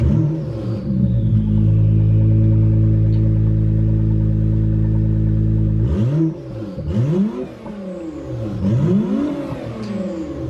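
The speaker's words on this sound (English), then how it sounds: "build a titanium exhaust with no mufflers, just as loud as we could get it" An Acura NSX with a muffler-free titanium exhaust holds a loud, steady high rev for several seconds, then drops and blips the throttle in repeated rising and falling surges, close and unaccompanied by talk.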